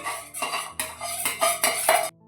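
Fruit custard being stirred in a pan gives a run of close, rhythmic metal scrapes and clinks of a spoon against the pan, about five strokes, ending abruptly.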